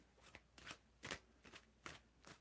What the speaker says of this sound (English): Well, just tell me when to stop shuffling, Than.